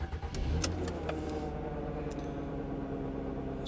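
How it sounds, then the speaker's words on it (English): A Ford Freestyle engine with oxygen sensor fault codes P2272 and P0158 (bank 2 stuck lean) catches with a few sharp clicks at the start, then settles into a steady, close, low idling rumble with no talking. "So now I'm gonna start the engine."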